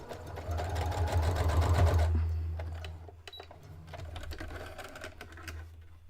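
Sewing machine running a straight stitch to hem a folded edge of Legend of Zelda print fabric for a drawstring backpack, a steady rapid whir for about two seconds, then it stops and faint handling sounds follow.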